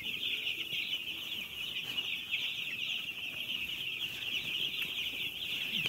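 Seven-day-old broiler chickens cluck and peep steadily while eating feed, a dense, continuous chorus of high chirping from many birds close by, with no talking.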